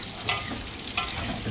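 Food in a cooking pot bubbles and sizzles on a home stove, a close, steady simmer with a couple of brief louder pops or stirring scrapes.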